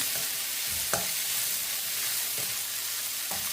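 Sliced onions sizzling steadily in a hot pan for Sri Lankan egg noodles, with a few sharp scrapes as a utensil stirs them; the frying noise is close and constant.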